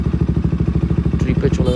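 A KTM Duke 200 BS6 fitted with an aftermarket Akrapovic exhaust runs right after starting, giving a loud, close, steady thumping idle with a fast even pulse. A brief clatter is heard near the end.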